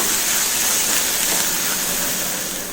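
Onions sauté lightly in a pan while making capsicum poriyal, giving a loud, steady broadband hiss and sizzle that runs unbroken and close.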